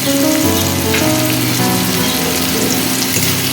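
Raisins sizzle in hot oil in a pan while chira pulao of Gobindobhog flattened rice is cooked for breakfast, a steady loud close frying hiss throughout.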